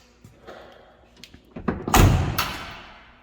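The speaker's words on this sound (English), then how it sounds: "something just fell off when I closed the door" A pickup truck door, on a truck with a 6.2 diesel, shuts with one loud, close thud after some quieter rattling and handling, then a brief clatter follows.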